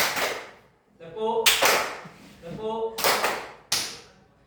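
A group claps hands in unison during a classroom-style concentration game, with several sharp, loud broadband bursts spaced a second or two apart and an instructor's voice speaking between the claps.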